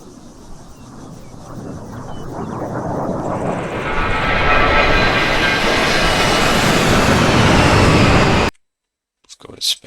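Jet aircraft in the video game Arma 3 approaching from the distance over an airfield, a roar swelling steadily louder for about eight seconds before cutting off abruptly.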